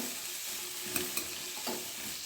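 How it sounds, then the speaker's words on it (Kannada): Asafoetida powder is stirred into hot tempering oil for upma, giving a quiet, continuous sizzle broken by a few soft scraping strokes of the spoon. "ಇದನ್ನೀಗ ಚೆನ್ನಾಗಿ ಮಿಕ್ಸ್ ಮಾಡಿಕೊಳ್ಳುವ."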